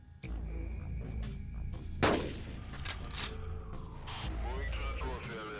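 A single sharp rifle shot rings out in the Carnivores dinosaur hunting game, fired across a lake and followed by a rolling echo, with a steady low ambient hum and someone talking around it.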